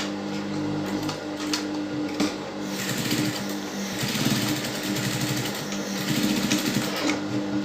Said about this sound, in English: so just going to be stitching all the way